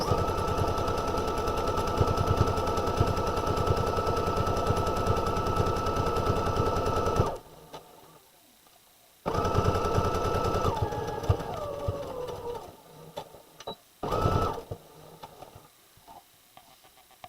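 Sewing machine stitching pieces of fabric together for a Simplicity S9456 pattern, a dense rapid mechanical rattle running continuously for several seconds, stopping, then resuming in shorter bursts with pauses.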